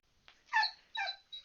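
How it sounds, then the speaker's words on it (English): A dog indoors gives a few short, soft whimpering yips and huffs, three or four brief breathy bursts close by in an otherwise quiet room. "My dog just came in"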